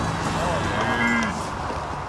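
A large herd of cattle on an expansive 40,000-acre prison ranch, with several overlapping moos rising and falling over a steady outdoor background, moderately near and loud.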